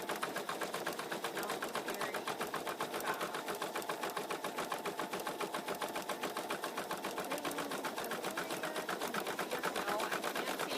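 An embroidery machine stitches a floppy-eared bunny stuffie design, a steady rapid needle chatter running continuously at a quiet, even level with no talking.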